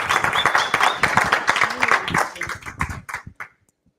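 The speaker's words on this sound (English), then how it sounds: "Let's give Maya a round of applause again" An audience claps in applause for a speaker, a dense burst of many hands close by that holds strong for about three seconds, then thins out and stops, with a voice briefly over it.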